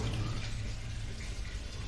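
Water pours steadily into a cooking pot of dal and rice on a home stove, a continuous close splashing rush with no voices over it.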